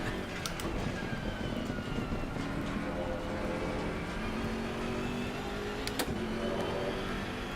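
The BMW race car engine in a VR racing game drones steadily throughout, a continuous mid-level motor hum with slight pitch shifts and a couple of sharp clicks near the start and around six seconds.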